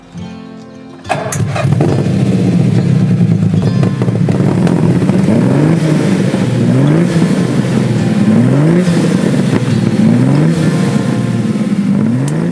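A Lamborghini Miura engine starts with a sudden roar, then revs up and down repeatedly in rising sweeps, loud and close.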